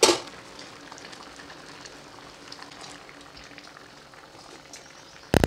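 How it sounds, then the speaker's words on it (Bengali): Sukto vegetables simmer with a freshly added raw spice paste, bubbling in a steady, close, continuous boil, with a brief clatter at the start and again at the very end. "এবার আমরা কাঁচা মশলাটা অ্যাড করে 4 থেকে 5 মিনিট আরও ফুটিয়ে নেব।"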